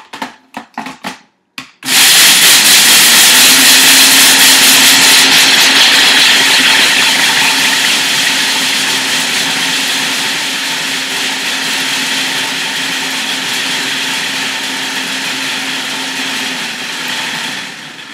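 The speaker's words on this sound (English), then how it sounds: "So I'm just adding that to my food processor here, and we're going to go ahead and give it a whirl." A food processor whirs loudly and steadily as it chops frozen raw nuts, starting after a few rough clattering bursts and holding a dense grinding roar that eases slightly over its long run.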